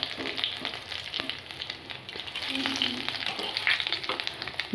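Whole cumin seeds with whole garam masala, cardamom, cinnamon, cloves and mace sizzling in hot oil, a steady close crackle with small pops and no talk.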